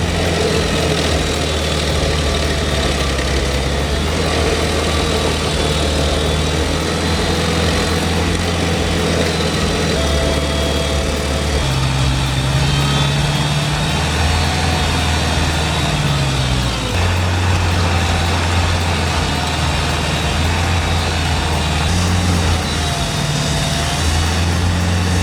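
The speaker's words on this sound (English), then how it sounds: "Its high-speed cutting wheel shreds even large stumps into mulch within minutes, clean and efficient." A stump grinder with a high-speed cutting wheel runs loud and steady, a heavy low engine drone with shifting pitch that continues without a break and without any voices.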